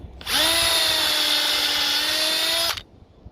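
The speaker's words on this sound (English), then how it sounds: "let's see if this is running a little bit when I drill it" A power drill whines up to speed and runs steadily for a couple of seconds while drilling a hole into a tree, loud and close, then stops abruptly.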